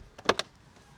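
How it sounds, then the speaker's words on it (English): Heavy door of a 2025 Mercedes G500 G-Class shutting: two quick, solid clunks close together with a brief latch click before them, loud and close against a quiet background. "about the door and how it sounds when you close it"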